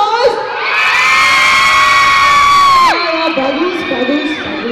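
A festival crowd at a Korean-themed event in Surabaya, Indonesia, cheering and shouting loudly with high whoops and children's screams, sustained for a few seconds before easing into a noisy murmur.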